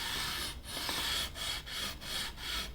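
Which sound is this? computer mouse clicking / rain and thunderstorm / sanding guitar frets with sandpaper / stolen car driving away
sanding guitar frets with sandpaper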